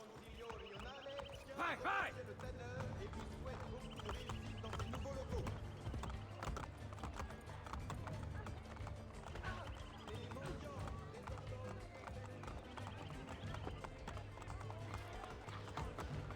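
Horses galloping in an Assassin's Creed video game, a steady rush of hooves with a brief whinny, fairly quiet and continuous under background game music and ambience while someone speaks French.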